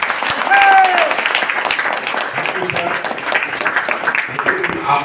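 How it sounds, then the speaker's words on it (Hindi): Audience applause for Shankar sir at an ITC event, steady dense clapping filling the clip, with a whistle early on and voices mixed in underneath. "सबसे पहले तो शंकर सर जी के लिए जोरदार तालियां होनी चाहिए।"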